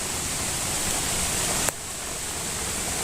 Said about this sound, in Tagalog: Parang bumabaha yung tubig